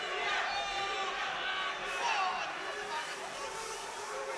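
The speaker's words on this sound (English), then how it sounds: "The crowd's really behind Mould" A boxing crowd at a Northern Area title fight between Lee Mould and Craig Dixon roars steadily behind Mould, a dense, continuous wash of cheering and shouting with voices in the mix that swells briefly midway.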